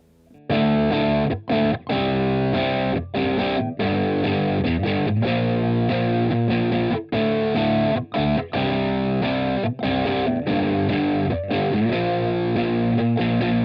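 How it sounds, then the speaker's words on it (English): Heavily distorted electric guitar plays chunky power chords in a steady rhythmic pattern, loud and close, with brief choked gaps between chord changes. "we're going to do them as power chords and pop a bit of distortion on there."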